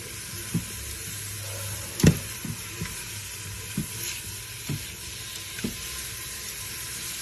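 Black-eyed peas cook in oil in an Instant Pot with a steady, moderate sizzle, broken by a few soft clinks of a fork against the pot, with no one speaking.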